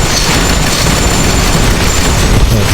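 Dense, continuous explosions from the video game Bad 2 Bad Apocalypse, a loud sustained rumble of overlapping booms and bursts filling the whole stretch with no pause.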